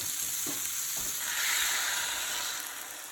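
Food cooking in a sprayed pan for a budget high-protein breakfast, a close steady sizzle and hiss with a couple of light knocks early on, no voices.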